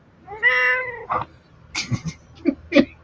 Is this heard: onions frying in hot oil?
no